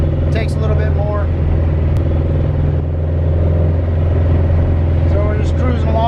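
A 1965 Volkswagen Beetle cruises in third gear at about 30 mph and 2,500 RPM, its engine giving a loud, steady, close rumble from inside the car. Faint higher whines drift over the drone.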